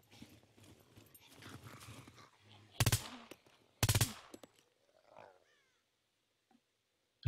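Gunfire in the video game SCUM: two loud, sharp bursts of shots stand out clearly above quieter background noise and faint voices.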